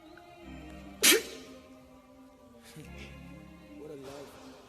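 One sudden, sharp sneeze cuts through a quiet room, brief and fairly close, with faint murmuring voices around it.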